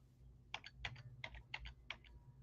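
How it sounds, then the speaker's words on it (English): Five short bursts of computer keyboard keystrokes, close up, typing a number over a low steady background hum, with no voices. "All right, so you start typing a number,"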